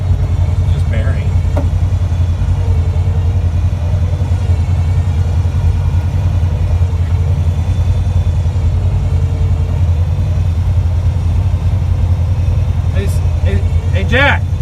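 Off-road vehicle engine revving hard and steady while stuck and being winched out at an off-grid camp, a loud continuous drone with spinning wheels throughout, voices talking over it.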